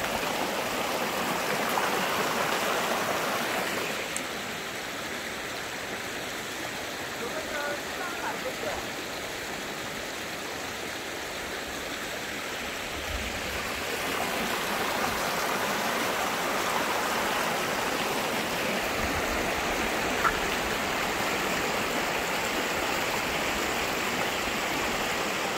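A mountain stream babbles and rushes continuously nearby, a steady bright wash of flowing water with no pauses.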